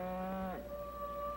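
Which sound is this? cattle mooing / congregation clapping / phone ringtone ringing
cattle mooing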